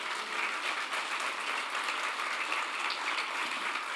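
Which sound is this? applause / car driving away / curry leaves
applause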